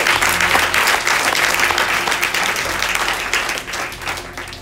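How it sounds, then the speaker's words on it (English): Loud, sustained audience applause fills a meetup talk hall after a speaker finishes, dense clapping throughout with no voices over it. "Let's give another round of applause for Aneel."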